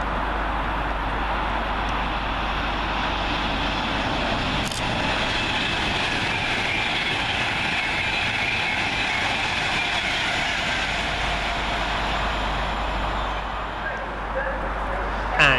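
A Class 390 electric train on the London Euston to Manchester Piccadilly run speeds northbound through Milton Keynes Central station, a loud sustained roar with rail rumble that holds steady for about fifteen seconds before easing near the end.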